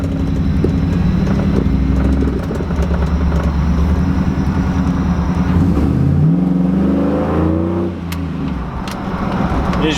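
A Chevrolet Silverado engine runs rough on a test drive with an uneven, sputtering note, then revs with a rising then falling pitch near the middle before dropping back.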